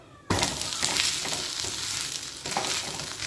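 Adai dosa frying in oil on a pan, a sudden loud onset of sizzling that settles into a steady crackling hiss, with a brief swell later, heard close.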